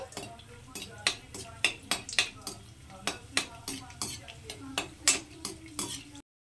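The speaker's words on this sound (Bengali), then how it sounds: "এবার এই একই তেলের মধ্যে আমি দিয়ে দিচ্ছি কয়েকটা শুকনো লঙ্কা গোটা। তো লঙ্কাগুলো একটু লাল লাল করে ভেজে নেব।" Whole dried red chillies fry in hot oil, a low sizzle running beneath repeated sharp scrapes and clinks of a spoon stirring against the pan in an uneven rhythm.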